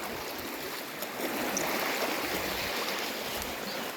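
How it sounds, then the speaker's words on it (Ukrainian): Strong stream of fresh water flowing near old ruins, a steady close rushing and gurgling wash that fills the clip. "А водичка то свіжесенька. І доволі сильний потік."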